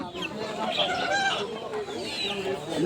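Local country chickens cluck and chatter amid a busy poultry market crowd in Purba Bardhaman, with voices talking throughout.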